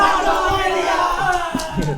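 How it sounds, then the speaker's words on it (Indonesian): A stand-up comedy crowd yells out answers all at once, a loud, dense jumble of overlapping shouts filling the room for a couple of seconds. "Ada yang jawab Pondok Kopi, ada yang jawab Pondok Indah"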